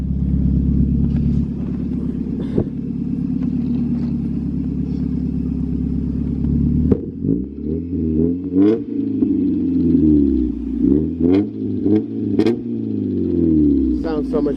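An NA Mazda Miata fitted with an ISR exhaust idles with a low, steady rumble, then revs several times in rising and falling sweeps, with voices talking over it.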